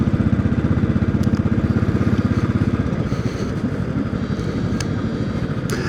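A Classic 500 motorcycle engine thumps with a steady, rapid single-cylinder pulse while riding through Matlock Bath, loud and close with wind noise over it, continuous throughout without talk.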